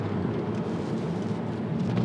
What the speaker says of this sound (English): kind of a crappy road. Sorry for the extra noise.